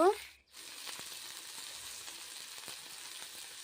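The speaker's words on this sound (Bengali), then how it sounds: "ডুমো করে কেটে নেওয়া আলুগুলো দিয়ে দিলাম এগুলোকে একটু নাড়াচাড়া করে নিব" Diced potatoes fry in a pan with a soft, steady sizzle and occasional faint stirring scrapes, after a brief sharper sound at the start.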